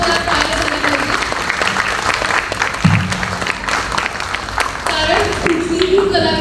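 An audience at a children's stage show in a theatre claps in a dense, sustained round of applause, with a voice speaking over it through a loudspeaker.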